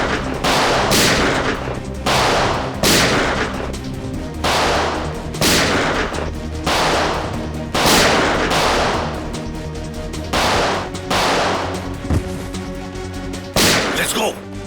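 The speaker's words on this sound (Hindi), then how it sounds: "बाहर गोली चलने की आवाज" Loud gunshots crack out one after another in an irregular series, some in quick bursts, with a voice talking underneath.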